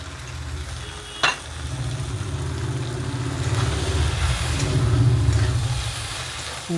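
Prawns and taro frying in a pan with salt and turmeric give a steady, close sizzle that builds gradually, with one sharp clink of a utensil early on.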